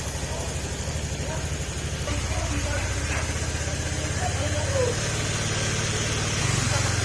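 A car engine that has been overheating runs at a steady idle with a low, even rumble. People are talking over it throughout.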